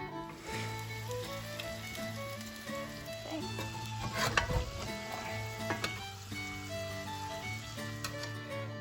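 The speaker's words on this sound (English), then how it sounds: "now you have to wait for the sausage to start browning on the bottom side that you currently have" Sausage sizzles and spits in a pan at an outdoor backcountry cooking spot, a steady close crackle with occasional louder pops over a low tonal background, and no speech.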